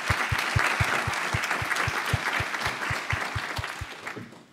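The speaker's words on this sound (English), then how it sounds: "Big round of applause, please, for panel two." Audience applause for panel two at a panel event on SDG monitoring, sustained many-handed clapping with a steady thumping pulse underneath, fading out near the end.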